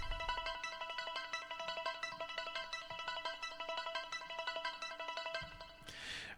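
A bright, dense synth arpeggio from FL Studio's Toxic Biohazard synth, driven by a sequencer for synth metal, pulses in rapid, steady repeated notes with a low thump under it. A burst of noisy wash closes it out.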